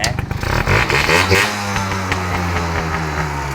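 Motorcycle engine running close by, loud and steady with a low rhythmic idle thrum after a brief rev and some clatter at the start.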